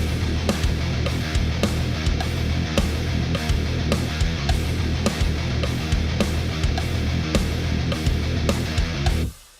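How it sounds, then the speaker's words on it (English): Heavy metal riff with a full drum kit, snare cracks landing steadily on beats two and four over dense distorted guitars, loud and continuous before stopping abruptly at the end. "demonstrate how powerful having snare drums in full time, or every 2 and 4 of the 4/4"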